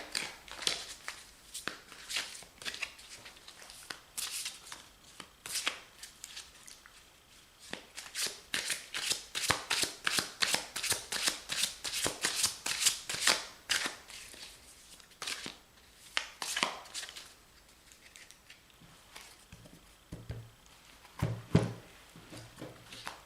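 Oracle cards are shuffled over and over, a long run of quick papery riffles and flicks up close, with pauses between bursts and no talking.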